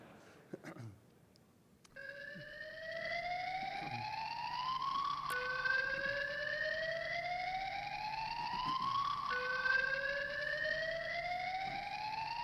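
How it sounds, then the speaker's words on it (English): At a convention centre, an emergency evacuation alarm wails in loud, repeated rising sweeps that keep cycling steadily after a brief quiet start. "In the event of an emergency, you will hear one alarm."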